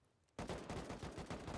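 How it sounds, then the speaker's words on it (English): In the survival game Rust, a sudden loud burst of rapid automatic gunfire breaks in after a short quiet moment and continues in quick, steady shots close by. "They're shooting down from above, I think."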